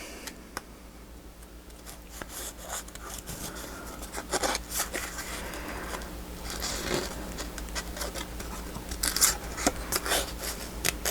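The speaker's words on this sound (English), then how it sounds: "Oh, it's so hard to cut with these big long scissors." Large long-bladed scissors cut through paper tags in a craft setting, making repeated close snipping and rustling sounds at an irregular rhythm, with paper handling scraping between cuts and no talking.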